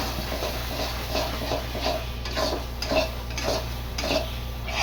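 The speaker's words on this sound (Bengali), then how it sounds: "এটাকে এইভাবে শুধু নেড়ে নেড়ে ভাজবো" Mashed taro stir-fries in mustard oil, a spatula scraping the pan in a steady rhythm of roughly one stroke every half second over a soft sizzle and a low constant hum, close and alone.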